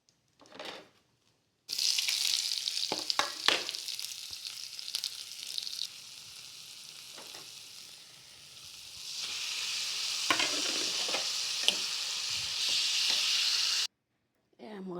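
Ground coriander, cumin, turmeric, pepper, salt and chilli powder sizzle loudly in a hot kadai, with sharp bursts of frying and scraping stirs, and brief quiet gaps at the start and end.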